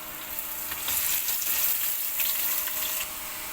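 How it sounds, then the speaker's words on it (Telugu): Marinated chicken for biryani sizzles and fries in a pan, a steady loud crackle that swells slightly after the first second and holds, with no talking. "ఇప్పుడు వచ్చేసి మనం మ్యాగ్నేట్ చేసుకున్న చికెన్ అయితే వేసేసుకున్నాం"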